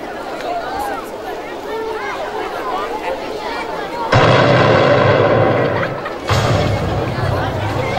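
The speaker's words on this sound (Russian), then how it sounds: "Мы петардочки взорвем." Firecrackers bursting in a loud, dense crackling rush that starts abruptly and keeps popping, then returns after a short drop, with crowd chatter and voices heard beforehand.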